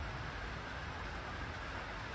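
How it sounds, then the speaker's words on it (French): Steady rain falls outdoors, a dense, even hiss with no breaks or voices across the short stretch. "Ça pleut, hein, Zeus?"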